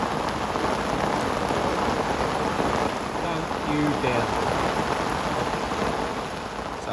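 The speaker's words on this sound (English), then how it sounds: "we had some serious amounts of rain for November" Heavy November rain pours down during a carp fishing session, a loud, steady, dense hiss that never lets up, with one brief voice speaking over it.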